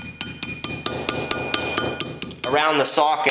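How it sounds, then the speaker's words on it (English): Rapid, evenly spaced metallic hammer taps ring out as a copper ring is shaped by hand, about a dozen bright close strikes before a person starts talking. "Now I'm going to start shaping this with the hammer to try to get the rounds into it"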